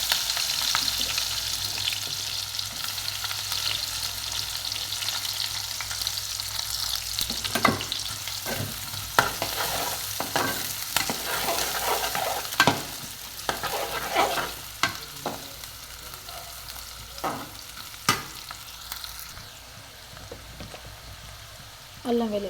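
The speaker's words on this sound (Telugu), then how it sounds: "అదే ఆయిల్లో పచ్చిమిర్చి, ఉల్లిగడ్డలు వేసుకున్నాం." Green chillies and onions frying in oil, a steady sizzle running throughout with scraping stir strokes from about seven seconds on, close and fairly loud, with no talking.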